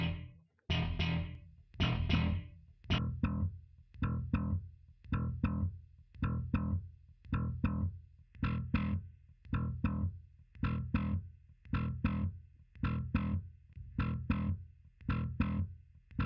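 An electric guitar through a Line 6 Helix preset with a smooth, saturated distorted tone plays repeated chords in a steady rhythm, no talking.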